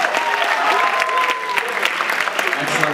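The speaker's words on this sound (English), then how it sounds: "applause for all of our performers today." A high school talent show audience claps for the performers, a loud, steady burst of applause with some crowd voices underneath.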